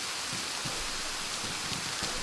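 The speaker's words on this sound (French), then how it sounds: "La pluie, ils sont même pas censés te voir ni t'entendre facilement là." Rain falls steadily in the survival video game DayZ, a dense, even wash of hissing noise that holds at the same level throughout, with no talking.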